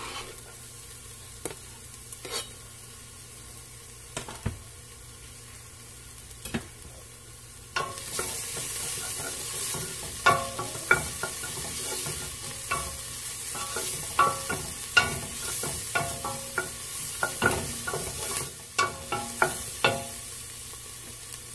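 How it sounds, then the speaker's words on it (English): Minced fresh garlic sautéing with onions in a pot, a soft sizzle with sharp scraping stirs, sparse and quiet at first, then busier and louder with frequent clacks of a utensil against the pot. "now I'm going to add 3 cloves of fresh garlic minced, and I'm just going to give this a quick saute"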